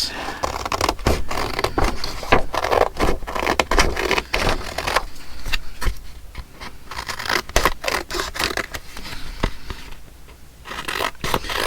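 Paper being cut for junk journal ephemera, with close, irregular scratchy snips and scraping strokes running continuously and fairly loud, no talking.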